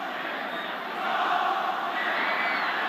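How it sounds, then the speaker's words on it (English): A New South Wales crowd at a 1982 State of Origin rugby league match chants the Queensland chant, a broad, sustained roar of massed voices that swells slightly after the first second and holds steady, heard from a distance. "we've got the New South Wales crowd doing the Queensland chant"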